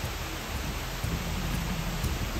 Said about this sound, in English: This sudden downpour caught us by surprise.